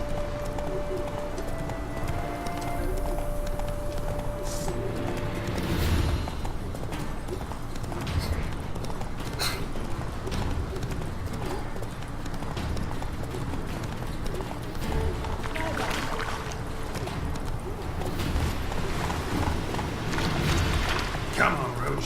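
Roach, a horse in The Witcher 3 video game, gallops with steady clip-clopping hooves throughout, layered over game ambience and music, with a voice talking at moments.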